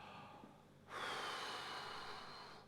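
A single deep intake of breath before playing a wind instrument during band practice: faint room noise, then a long, airy inhale that starts abruptly and holds for nearly two seconds.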